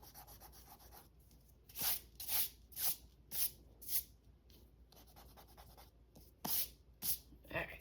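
An eraser rubs out pencil lines on paper in a series of quick scratchy strokes, close and faint, grouped in two bursts of rapid back-and-forth rubbing.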